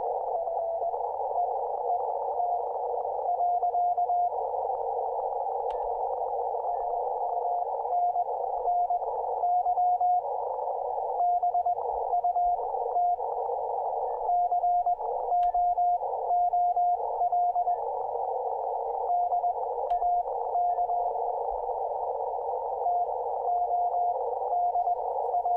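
A Morse code CW signal comes through a Yaesu FTdx-10 ham radio receiver, a steady keyed tone of dots and dashes sitting in a band of hiss and noise, continuous and fairly loud with no speech.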